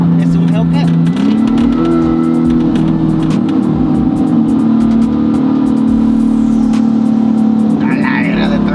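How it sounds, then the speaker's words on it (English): A Dodge Hellcat Redeye engine drones loud and close with a steady low hum that shifts up in pitch near the start, heard alongside the recording vehicle's noise while people talk. "Oh, it's a red eye. Es un Hellcat."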